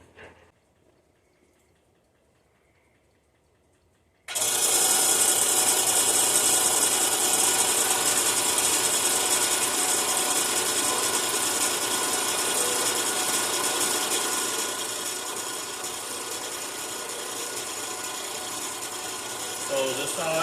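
A gravity-feed saw set to 45 degrees bites into 3-inch metal tubing, starting abruptly after a few quiet seconds and then grinding loudly and steadily close by, easing slightly in pitch and level toward the end.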